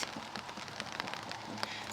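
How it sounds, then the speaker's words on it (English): Rain patters on a moored boat and a tent, with scattered close drips and taps over a soft steady hiss. "we're sitting looking at the rain, and I'm actually sitting under the brolly"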